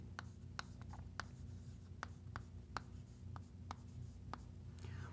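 Chalk or marker strokes on a board during an arithmetic lecture on Diophantine equations, a series of short sharp taps and scratches spaced irregularly over a steady low room hum, with no talking.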